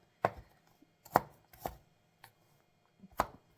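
Sharp, irregular knife strikes on a cutting board as garlic is chopped, four or five distinct close chops separated by short pauses, with no voices.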